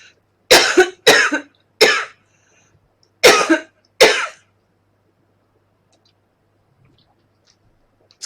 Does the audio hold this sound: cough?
yes